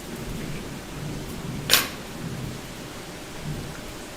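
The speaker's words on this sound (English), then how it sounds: "I don't know if you guys can hear the rain" Rain falling steadily outside a home kitchen, a soft, even hiss throughout with one sharp crack of thunder or a bright snap in the middle.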